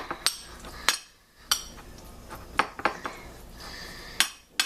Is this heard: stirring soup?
yes